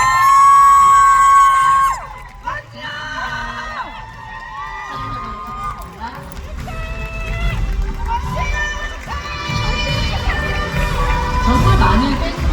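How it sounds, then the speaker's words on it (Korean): An audience at a Korean cultural order of merit award ceremony cheers and applauds for the honoree, with whoops and shouts over musical tones, swelling louder toward the end. "여러분 박수 부탁드리겠습니다"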